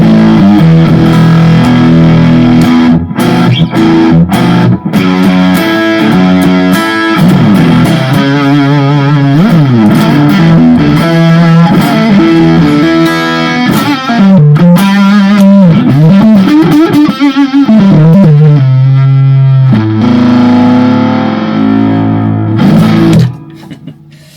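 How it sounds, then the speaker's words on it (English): Electric guitar through a Blackstar IDX modelling amp set to fuzz, a loud, thick and saturated tone playing riffs with bending, sliding notes before fading at the end. "Fuzz."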